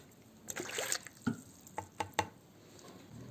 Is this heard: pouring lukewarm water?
yes